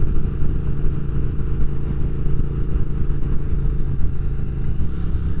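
A motorcycle engine lopes along in third gear on a ride, giving a loud, steady, low-pitched rumble with constant throb and no talk throughout.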